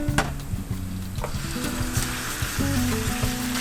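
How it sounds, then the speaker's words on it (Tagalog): Chicken wings frying in hot oil with browned garlic for arroz valenciana, a steady dense sizzle with low bubbling and a few brief clinks of stirring, close and continuous with no talk. "Iprito nating mabuti para hindi siya malansa."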